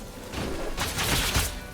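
Video game explosions in Rogue Legacy 2, a burst of several quick booming blasts in rapid succession, moderately loud and harsh, with no talk over them.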